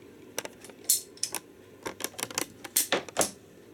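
A handheld ratcheting cutter biting through PVC pipe makes a quick series of sharp, close clicks and snaps at an uneven rhythm as the blade is cranked shut.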